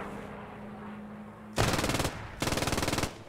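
A German MG-42 machine gun rips out two long, very rapid buzzing bursts in Post Scriptum, a World War II game, loud and close, separated by a short pause after a quiet stretch.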